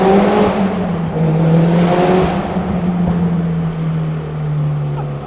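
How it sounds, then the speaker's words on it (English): A 440-horsepower turbocharged Mitsubishi Eclipse GSX engine drones loudly from inside the cabin, a steady low exhaust roar that slowly settles in pitch; distinct exhaust pops are not clearly picked out. "when the exhaust ignites, you feel it through the seat"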